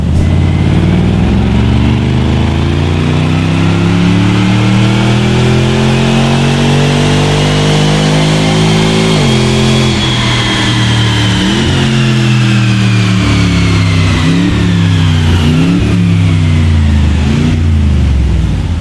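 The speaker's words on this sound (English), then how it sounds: "it's time to get it strapped back down to our dyno to find out exactly what this Jag's running now" A supercharged Jaguar XJ engine revs on a dyno, a loud sustained wail climbing steadily for several seconds, then cutting back and surging again in a series of sharp rev pulls, close and continuous with no talking.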